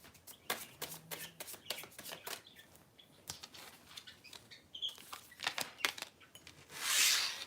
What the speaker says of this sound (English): Let me just give these all a quick little shuffle, okay?